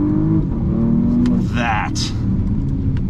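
Porsche plug-in hybrid's combustion engine revving with a deep, steady rumble that rises briefly, heard from inside the car beneath a short spoken word.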